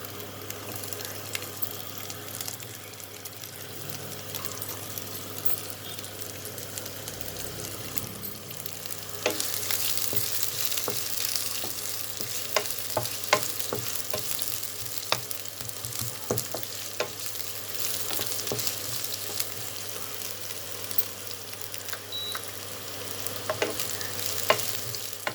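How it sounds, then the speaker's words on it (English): Sliced onions fry in a pan for leftover roti noodles, a steady broadband sizzle that swells louder about a third of the way through, with scattered clicks of stirring over a low constant hum. "Now I will add the sliced onions"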